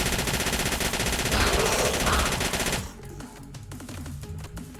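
PPSh submachine gun fired in a video game, a loud dense rapid burst of automatic fire for nearly three seconds, then quieter intermittent game sounds.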